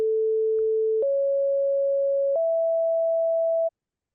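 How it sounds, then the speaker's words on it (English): Three clean synthesized sine tones at about 440, 554 and 659 Hz step upward in sequence, each held steadily for about a second or more, loud and alone with no other sound. "The three musical tones become stepped horizontal stripes at 440, 554, and 659 Hz."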